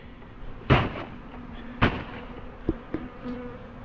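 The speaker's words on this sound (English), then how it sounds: "Go on, into the box, bees, into the box." A bee swarm buzzes close by in a steady hum, broken by a few loud knocks and thumps against a hollow box.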